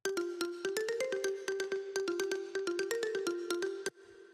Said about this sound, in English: There's a second mallet.